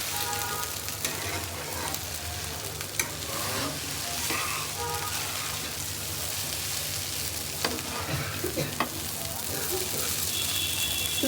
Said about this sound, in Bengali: দিয়ে আরেকবার একটু নাড়াচাড়া করে রান্না করে নিতে হবে।